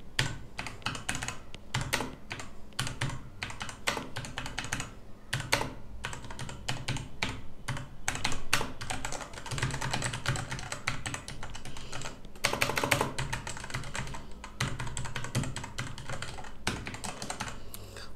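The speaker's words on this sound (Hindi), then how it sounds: "अब देखो की का साउंड, मैं खामोश हो जाता हूँ, यहाँ से की का साउंड सुनो।" Steady, fast typing on a Cosmic Byte CB-GK-18 Firefly ten-keyless mechanical keyboard with Outemu Red switches, close up, with crisp clacks and occasional heavier key hits and brief pauses, no talking.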